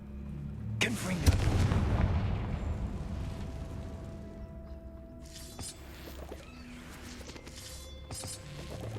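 In Hogwarts Legacy, a Confringo fire spell explodes with a sharp, booming blast that rolls off into a rumbling decay, followed by scattered quieter in-game effects.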